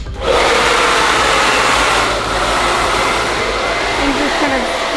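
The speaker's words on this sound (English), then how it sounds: "you could just barely take this diffuser" A hair dryer fitted with a diffuser runs while drying curly hair, giving a loud, steady whirring roar that holds constant from start to finish with no talking.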